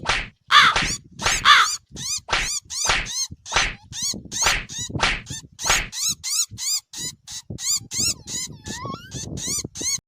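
Cartoon crow cawing in a rapid run of sharp, squawky calls, about twenty bursts in quick rhythm, close and loud with no speech.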